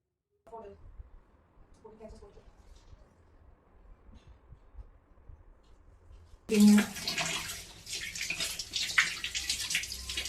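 Fish is washed in water, a close sloshing and running-water sound in the second half that follows a quiet stretch with faint voices.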